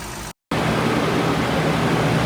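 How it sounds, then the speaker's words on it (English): A modified fan clutch on a 2015 Toyota truck spins hard, pushing a steady, loud rush of air with a low engine hum underneath, briefly cut off by a short gap before the constant roar resumes. "Here is the modified fan clutch installed, pushing a ton of air"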